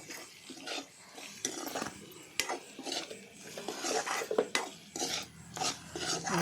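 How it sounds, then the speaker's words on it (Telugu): Brinjal and tomato chutney being stirred with oil in a pan, a spoon scraping and rasping against the metal in irregular close strokes with occasional clinks. "నేనైతే బాగానే కలుపుతున్నాను."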